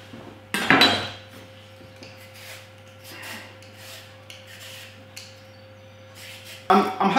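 A sweet potato gets peeled with short, dry rasping scrapes that repeat at an uneven pace, including a louder scrape at the start and another at the end.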